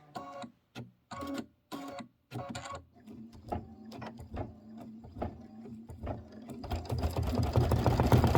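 An embroidery sewing machine stitches a hay strip placement line for an autumn Kimberbell design, running in short bursts at first, then a steadier whirring run that grows louder toward the end.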